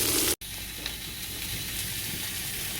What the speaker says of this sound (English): While I have the pork hock over there searing up, braising up nicely